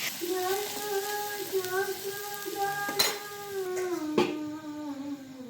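Chopped capsicum with salt sizzles in a pan while a utensil stirs and scrapes, giving sharp clinks. A steady tonal hum runs underneath.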